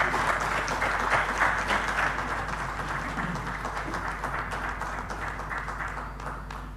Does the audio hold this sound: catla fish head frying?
no